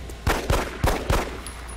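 Four sharp gunshots from the XCOM Long War video game, fired in a quick, uneven sequence, each loud and close with a short decay and no talk over them.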